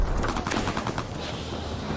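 Gunfire in a Call of Duty match, with rapid, dense bursts of shots rattling continuously at close range and no voices over them.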